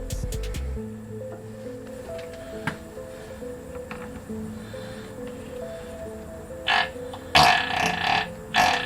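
A single long, low burp rumbles from a person in a garage during a V8 S10 rear axle swap, followed by rustling and handling noises.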